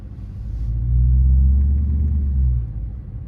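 Deep exhaust rumble from a 2020 Dodge Charger R/T with the mid muffler deleted, swelling loud and near as the car pulls and then easing off, with no talking.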